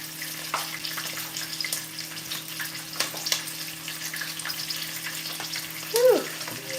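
Food sizzles and crackles in hot oil while sopes and elotes cook, a continuous fizzing bed dotted with sharp pops and scattered clinks throughout.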